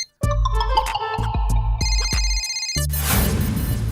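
A phone rings with a repeating electronic ringtone melody, loud and close, then cuts off into a brief noisy rustle.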